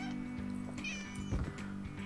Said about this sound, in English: This cat is really fat though.